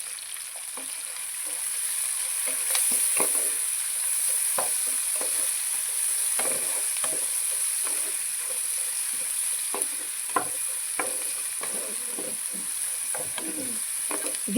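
Turmeric and spices fry in a pan for a gooseberry dal with a faint, steady sizzle broken by scattered scraping stirs of a spoon.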